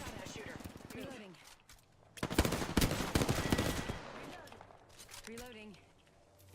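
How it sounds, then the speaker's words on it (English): Bursts of automatic gunfire in the Apex Legends video game, with a loud, sustained volley in the middle, and voices talking before and after it. "Getting shot at."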